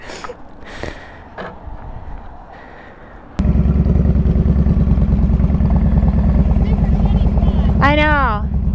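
Indian Scout Bobber motorcycle riding through Jackson Hole, Wyoming: after quieter moments with voices, the engine abruptly roars in loud and close, holding a steady, throbbing drone to the end, with a brief voice over it near the finish.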